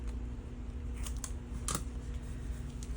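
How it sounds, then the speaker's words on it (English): Scissors make a few quick snips through paper during pocket folio crafting, sharp close clicks spaced out over a quiet background hum. "I'm going to snip this one."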